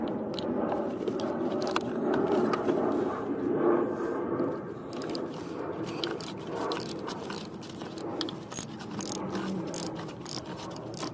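Ratchet working bolts loose on the water pump of a 2005 Pontiac Grand Prix 3800 engine, a continuous rapid clicking pawl with scraping metal, fairly faint and steady outdoors.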